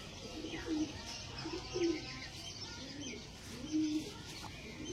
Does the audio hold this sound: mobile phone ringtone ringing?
no